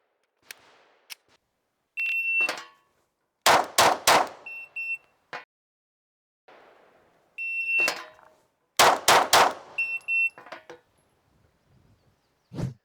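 A Glock pistol fired during an FBI shooting qualification test: an electronic timer beep, then a quick string of about four loud, sharp gunshots, repeated a second time after a pause.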